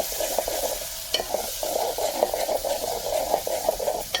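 Raw mango and prawn curry being stirred in a pan, a steady frying sizzle with repeated soft scraping strokes of a spoon throughout, close and moderately loud, no voices.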